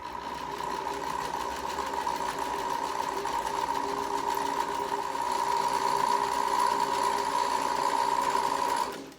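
A sewing machine runs steadily for about nine seconds, sewing a seam in canvas fabric for a fabric plant-pot cover. The close, even, buzzing whir holds a constant pace until it stops abruptly.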